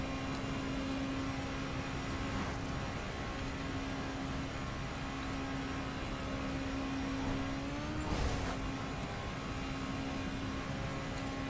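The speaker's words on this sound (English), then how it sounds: "the BRZ sounds like a Honda in this game" A Subaru BRZ engine in the racing video game The Crew Wild Run drones at a steady, sustained tone, with a brief surge of revving near the end.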